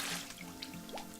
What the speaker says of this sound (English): we're going to take our water and dump it in the machine